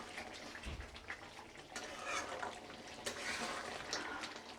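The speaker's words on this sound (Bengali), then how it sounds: "এইভাবে খুব ভালো করে কষতে হয় তরকারিটাকে।" Curry seasoned with red chili powder sautés in a pan, giving a close, steady frying sizzle with soft scraping and stirring throughout and no talk.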